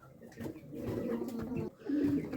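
Soft, low pigeon coos close by, a few murmuring rolling calls repeating over a couple of seconds, with no talking.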